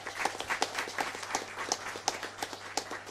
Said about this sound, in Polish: Dla tych panów gorące brawa.